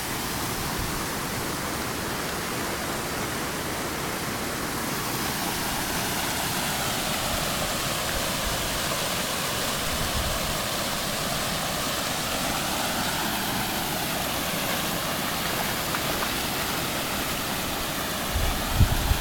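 Steady broadband rush of well water pouring out into the Kings River, a continuous loud wash with no pauses and no voices.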